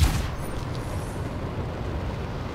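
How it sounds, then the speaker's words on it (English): Fire Gem flight sound effect from a video game played back in Wwise, a loud, dense rumbling whoosh like roaring fire that holds steady for under three seconds, alone without voices. "it sounds like the Fire Gem flight sound is a little too loud"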